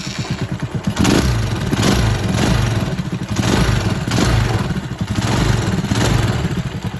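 A Rusi Macho 125/175 motorcycle with a carburetor fault, running only on choke, starts up and runs loud and close, a rough, steady rattling drone with rhythmic surges.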